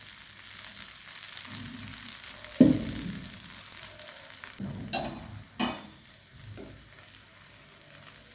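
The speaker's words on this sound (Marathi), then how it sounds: "आणि आलटून पलटून दोन्हीकडून भाजून घ्यायचं आहे धिरडे." Mung bean and rice dhirde fry in oil in a pan, a soft steady sizzle broken by a few sharp scraping and tapping touches of a spatula, no voices.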